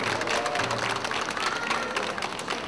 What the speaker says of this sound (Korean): 우리 32번 선수한테 뜨거운 격려와 박수 부탁드리겠습니다.